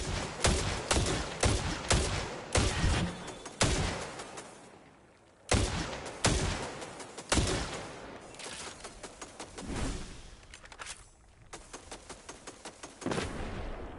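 Gunfire in the video game Destiny, rapid bursts of sharp shots in quick clusters with short pauses between, loud and close, with a heavier blast partway through.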